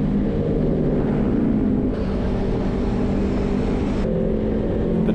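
Loud, continuous engine and exhaust roar from a motorcycle riding just ahead on a Sunday group ride to Ancol, heard up close with heavy wind rush and a sudden shift in tone midway, with no talking.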